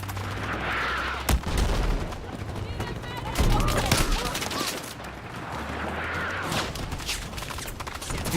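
Gunfire in Battlefield 6 crackles throughout, with repeated sharp shots and bursts, some near and loud, others more distant, over a steady low battlefield rumble and scattered game noise.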